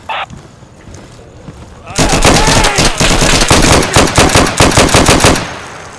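Gunfire in the Insurgency video game: a quiet stretch with a brief voice, then loud rapid bursts of automatic fire with sharp repeated cracks for several seconds, close and dominant.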